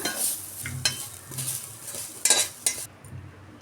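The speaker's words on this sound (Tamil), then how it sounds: "கட் பண்ணி வச்சுருந்த தேங்காவையும் லைட்டாக வறுத்து எடுத்துக்கலாம்." Cut coconut is lightly roasted in a pan, with repeated scraping stirs of a utensil against the metal over a soft sizzle, several distinct strokes in an uneven rhythm, no talking.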